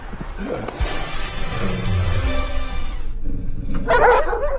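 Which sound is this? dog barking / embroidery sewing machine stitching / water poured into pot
dog barking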